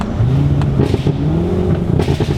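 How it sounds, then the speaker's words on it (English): A 920 hp Chevrolet Corvette ZR1 engine with full bolt-ons, a cam and a burble tune: a loud, close, deep rumbling idle that rises into a rev and then settles back into an uneven, burbling lope. "It's also got a burble tune, if you couldn't tell."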